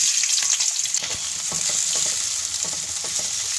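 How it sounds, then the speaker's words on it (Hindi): Onions fry in about three to four tablespoons of hot oil in a kadai, a loud, steady sizzling hiss with scattered crackles and stirring scrapes, no voices. "अब मैं इसमें ये प्याज डाल रही हूँ"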